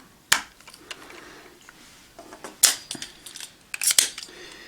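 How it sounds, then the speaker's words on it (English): Plastic PlaMonster model kit parts snapping together, a few sharp clicks and clacks of hard plastic being plugged into a socket, close and clear in a quiet room with no talking. "Take this piece here and plug it into this socket down here."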